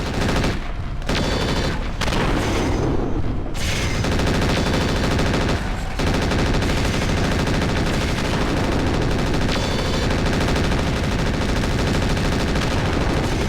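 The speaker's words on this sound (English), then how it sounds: "Machine guns are so pointless!" Sustained machine gun fire from battling mechs in MechWarrior 4: Mercenaries, a dense, loud, continuous rattle of shots with only a few brief gaps, heavy and unbroken across the arena.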